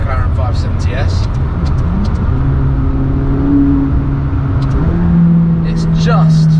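A McLaren 570S supercar drives with a loud, steady engine drone, its pitch rising through gears as it accelerates up close, with a voice talking over it.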